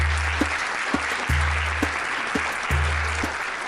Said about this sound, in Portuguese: eu queria pedir uma salva de palmas para isso